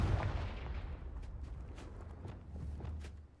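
A Confringo fire spell goes off in Hogwarts Legacy, a muffled booming blast with a rumbling low tail and a few crackling impacts, fairly quiet overall and with no voices.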